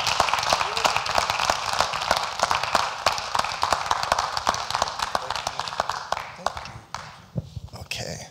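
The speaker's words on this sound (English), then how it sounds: "So let's give Germaine a big round of applause as well." A large audience claps continuously at a film festival Q&A, dense and loud, fading slightly toward the end.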